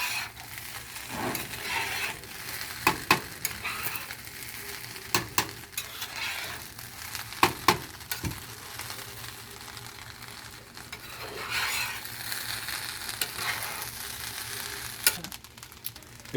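Fried rice sizzles steadily in a hot pan while being stirred, with repeated scraping clinks of a utensil against the metal over a continuous frying hiss; no talking.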